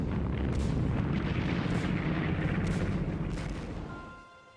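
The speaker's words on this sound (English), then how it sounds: "Tanks led the way, grinding over the rubble and firing point blank into courtyards." Wartime tank gunfire and explosions in WWII Stalingrad street fighting, heard as a continuous heavy rumbling roar of blasts that holds for about four seconds and then fades out, with no voices.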